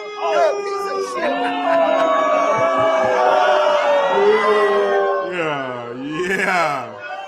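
A large crowd booing loudly, many voices merging into a sustained jeering roar that swells and dips over several seconds, with one voice rising above the rest near the end.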